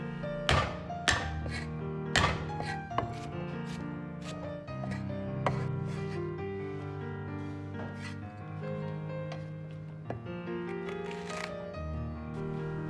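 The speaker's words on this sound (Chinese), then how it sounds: "生姜先切成大厚片，然后用刀拍破，稍微切碎即可" A kitchen knife smashes and chops fresh ginger on a cutting board, sharp irregular thwacks and quick chopping taps repeating close and clear with no talking.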